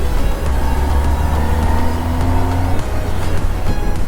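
A Kawasaki ZX10R motorcycle rides through busy city traffic, its engine humming continuously with slowly rising and falling pitch, mixed with surrounding road and vehicle noise and a few brief clatters.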